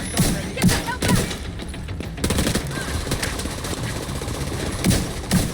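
Rapid bursts of automatic gunfire in The Division 2 video game, loud and repeated, with several sharp shots clustered at the start and near the end over a steady din.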